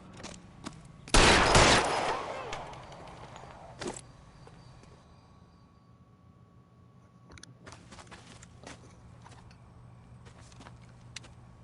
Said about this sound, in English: now he's shooting at police, so now I'm definitely gonna light him up